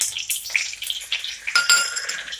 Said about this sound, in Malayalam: വെളിച്ചെണ്ണ ഒഴിച്ചു കൊടുത്തു അതിലേക്ക് നമുക്ക് കടുക് ഇട്ട് കൊടുക്കാം